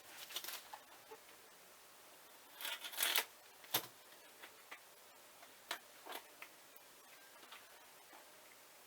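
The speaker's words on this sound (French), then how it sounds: "Donc je vais ouvrir la box 1." A DVD box set from an anime collection being opened, heard as a string of faint, sharp plastic clicks and crinkly handling rustles, with a denser burst of snapping around the middle, quiet and close, with no talking.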